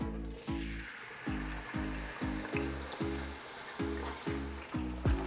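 Tornado potatoes deep frying in hot oil give a loud, steady hiss and crackle, with a rhythmic low thumping pulsing underneath throughout.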